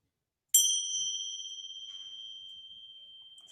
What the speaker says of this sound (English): So hearing that little chime, that gentle chime of the bell, bringing us back to the day